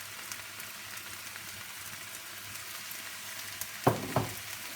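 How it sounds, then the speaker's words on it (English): Onion, garlic and fresh and frozen peppers frying in a pan, a quiet steady sizzle heard alone, with a couple of brief louder stirring clatters near the end. "I'm just going to fry those off for about 5 minutes."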